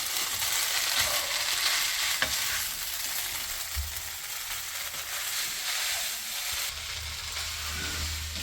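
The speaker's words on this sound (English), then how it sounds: "And then put the soaked noodles in too. And then mix that." Soaked egg hakka noodles being stir-fried in a pan, a loud continuous frying hiss with scraping and tossing, heard close and alone.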